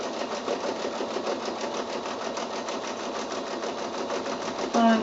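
A sewing machine runs continuously while free-motion stitching a quilted giraffe wall hanging, giving a fast, even, close mechanical whir-clatter that holds steady for several seconds.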